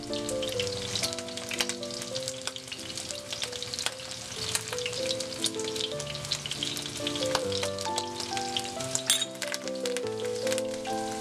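Rack of lamb sizzling steadily in a pan with butter, rosemary and thyme, a continuous loud frying hiss with crackles, over background music with sustained tones.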